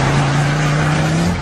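A Ford Focus RS engine drones loudly and steadily at close range, a constant throaty note holding for a moment with no voices over it.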